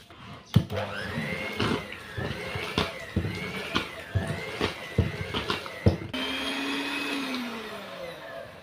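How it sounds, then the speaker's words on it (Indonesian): An electric hand mixer whirs steadily through butter, egg and margarine dough for putri salju cookies, its pitch wavering as the beaters move, broken by repeated knocks against the bowl, then settling into a smoother steady drone. "untuk lebih mudahnya mencampur, kita pakai mixer saja ya, biar lebih cepat juga"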